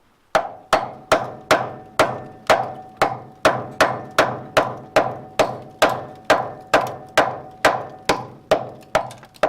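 Hammer blows strike a rusty strut top on a Nissan Skyline R33, about twenty sharp, evenly spaced metallic whacks, each ringing briefly and decaying, loud and close with no talking.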